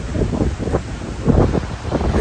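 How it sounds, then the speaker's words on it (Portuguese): A strong gust batters the microphone outdoors just before a rainstorm, a loud, continuous rushing roar that swells and dips without letup. "Nossa senhora, olha o vento, cara."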